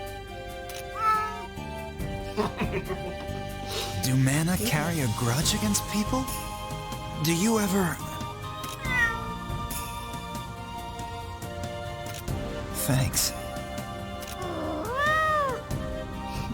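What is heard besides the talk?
cat meowing in video game Mana Khemia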